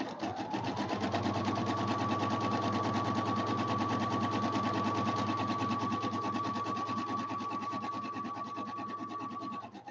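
A sewing machine runs continuously while stitching pillow fabric, a fast, even, rattling whir held close and steady for about ten seconds before slowing slightly at the end.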